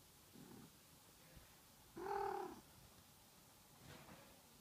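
A pet cat purrs and meows indoors, one loud, brief cry standing out between softer purring murmurs, close to the microphone with no talking.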